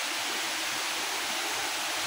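Nalalata Falls in Bula, Camarines Sur, Philippines, a forest waterfall whose water pours in a steady, full, hissing rush, close and continuous, with no voices.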